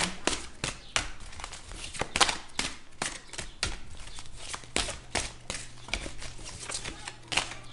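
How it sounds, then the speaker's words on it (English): Rapid riffle shuffles of playing cards, a series of sharp crisp bursts repeating every half second or so, close up, with no talking. "I always shuffle the cards with you"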